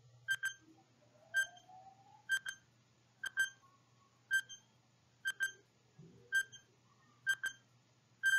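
A countdown timer in a math lesson, ticking as quiet double beeps at a steady rhythm of about one pair per second, with faint background noise and no talk.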